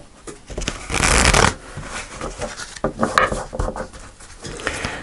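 Tarot cards being shuffled by hand during a Sagittarius reading, a dense riffling burst near the start, then softer intermittent card flicks and slides, close and fairly loud with no talk.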